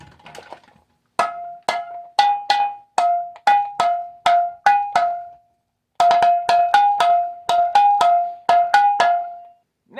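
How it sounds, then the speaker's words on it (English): Two glass bottles of a homemade bottlephone struck in quick succession, each tap a bright ringing ping with short decay, played in two rhythmic runs of about a dozen hits separated by a brief pause. "Two different bottles. Hey, two different sounds."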